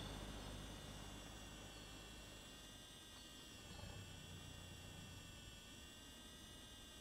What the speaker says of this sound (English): Let's put the drone away.